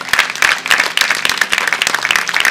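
Congregation at a church service applauding in praise, a thick, even wash of many hands clapping close and loud for the whole stretch.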